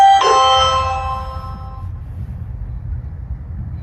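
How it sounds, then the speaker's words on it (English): A Ring video doorbell sounds a single bright electronic chime that rings out clearly and decays over about two seconds, leaving quiet low background noise. "This is the sound made by the Ring doorbell."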